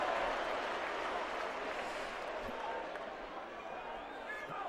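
A rugby sevens crowd at Wigan in 1990 protests a referee's decision, a sustained wash of jeers and noise holding steady throughout, with voices mixed into the roar.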